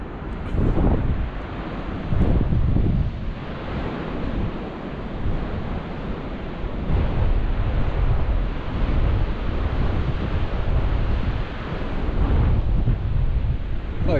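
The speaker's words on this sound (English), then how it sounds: "Look at those waves." Huge storm-driven ocean surf crashing in repeated loud, broad surges on an open coast, heavy wind buffeting the microphone throughout with no talking.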